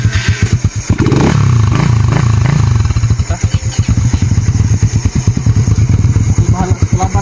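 A motorcycle engine revs loudly up close, surging in a strong burst then settling into a rapid, throbbing idle with uneven blips.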